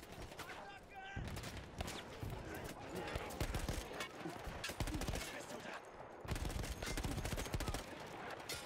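Battlefield 1 gunfire rattles almost nonstop, dense automatic bursts and single loud shots overlapping in a chaotic firefight, with only a brief lull before the shooting surges again.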